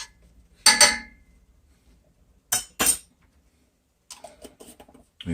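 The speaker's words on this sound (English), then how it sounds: "Sorry, I was using that metal spoon. Metal on metal." A metal spoon clinks and scrapes against a metal soup pot in short bursts, a few bright clangs with quiet gaps between them, close and clear with no talk.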